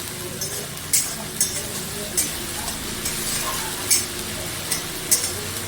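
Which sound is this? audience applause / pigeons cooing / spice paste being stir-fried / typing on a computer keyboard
spice paste being stir-fried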